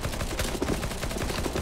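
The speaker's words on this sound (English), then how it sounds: "Keep shooting." Dense rapid gunfire in the video game CSGO Zombie Escape on the MindTree map, a continuous loud clatter of overlapping shots with no break and no voices.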